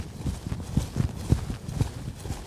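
Horse hooves in a quickened lope, a steady rhythmic clip-clop of soft thuds on arena ground, fairly close and moderately loud with nothing else over it.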